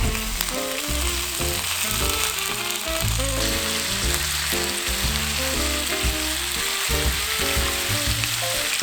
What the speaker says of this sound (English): Once the pan is hot, we're gonna add 4 strips of bacon.